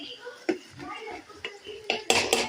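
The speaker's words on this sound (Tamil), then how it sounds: "நல்லா கிண்டி விட்டுப்போம்" A spoon clanks and scrapes inside a pot while mutton kulambu with potatoes is stirred, with several sharp metallic knocks, the loudest cluster coming near the end, and a voice faintly underneath.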